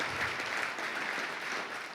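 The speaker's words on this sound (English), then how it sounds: "Another huge round of applause for Amazon." A keynote audience at Denver Startup Week 2023 applauds Amazon, a short, even burst of many hands clapping at moderate distance.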